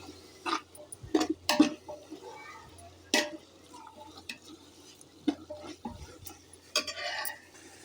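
Tomatoes and soya chunks are stirred in a pan, giving sporadic scraping and clinking spoon strokes with quiet pauses between them, fairly close and moderate in volume, with no talking.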